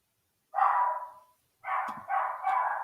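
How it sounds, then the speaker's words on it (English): A dog barks three times nearby, one short bark, a pause, then two quick barks in succession. "I apologize if you can hear a dog barking in the background"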